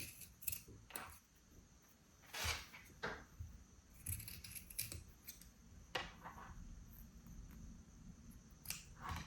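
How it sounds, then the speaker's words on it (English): Scissors snip through several layers of fabric while rectangles are cut for a sewing project. Crisp, irregular snips and clicks sound close and fairly quiet, with no talk. "then we can cut those rectangles, both through all layers"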